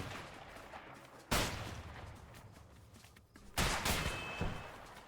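Two sharp bursts of video game gunfire crack out, one early and one later, over a steady background hum, with no voices.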